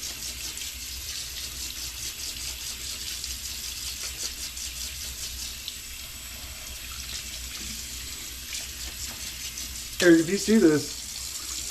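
Water from a tap runs steadily into a sink while brushes are cleaned, a soft continuous hiss under quiet talk, with a short louder splash near the end.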